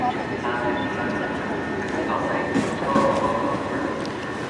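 Southern Class 377 electric train pulling out of Brighton station on a service to Portsmouth Harbour, a steady rolling rumble and hum with faint rail clatter, filling the platform, while people talk nearby.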